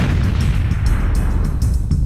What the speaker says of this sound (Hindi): एक जोर का धमाका हुआ।